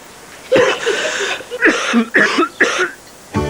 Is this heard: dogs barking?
no